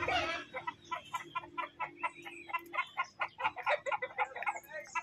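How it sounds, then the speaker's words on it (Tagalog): Chickens clucking at a farm during a fiesta, a rapid run of short, close clucks in an uneven rhythm, fairly quiet, with no talk over them. "Ito, may mga manok."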